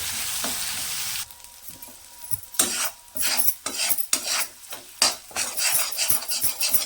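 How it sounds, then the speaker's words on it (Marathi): Ground masala paste roasts in a pan, sizzling loudly while a spoon scrapes and stirs in quick irregular strokes against the metal, close up and with no talking. "मसाला आहे ना दोन ते तीन सेकंद चांगला असा भाजून घेते"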